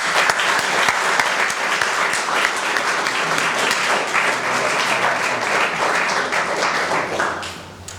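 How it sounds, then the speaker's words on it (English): Sustained round of applause from a gathered crowd at the George Street Commons ribbon cutting, loud and steady for several seconds before tapering off at the end. "let's have a round of applause for Larry and all the crew"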